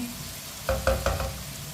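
Chopped capsicum fries in a pan under a low, steady sizzle, broken by three quick scraping knocks of a spoon stirring it, close by and without any talking.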